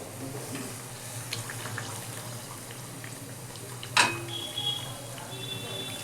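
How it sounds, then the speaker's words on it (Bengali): Bengali-style pitha frying in hot oil until reddish, giving a steady soft sizzle throughout with one sharp utensil clink partway through. "একটু লাল লাল করে ভাজবো আমি।"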